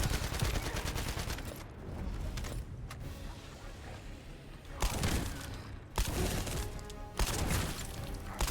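Shotgun gunfire in a video game booms as heavy, dense blasts, with several sharp reports standing out over a continuous roar of battle. No voices are heard.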